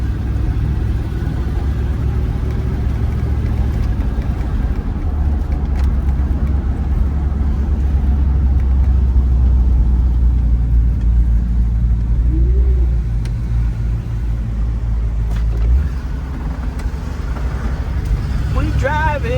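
A 1965 Ford Thunderbird with a rebuilt rear suspension drives on a test run, its engine a loud steady low rumble inside the cabin that swells and settles as it accelerates, with people talking over it.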